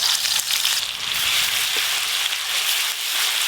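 Onions fry in a pan for a fish dish, producing a steady, close, hissing sizzle that stays loud throughout with occasional faint stirring.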